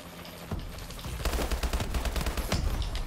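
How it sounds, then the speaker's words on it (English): Rapid automatic gunfire in a Call of Duty style shooter game aimed at a Warbird aircraft, dense loud bursts of shots in quick succession building after a brief opening. "I'm shooting it down with my gun."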